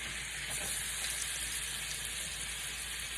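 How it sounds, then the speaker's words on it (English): Onions frying in a pan give off a faint, steady sizzle, an even hiss that continues unbroken with no talking over it. "Now I'm gonna put my onions in."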